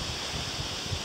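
Steady outdoor wind noise at a house building site as the weather turns cold, a broad continuous rush with low gusty buffeting against the microphone, no voices.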